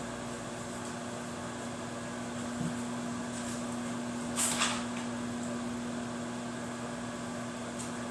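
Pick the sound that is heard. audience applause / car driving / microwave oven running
microwave oven running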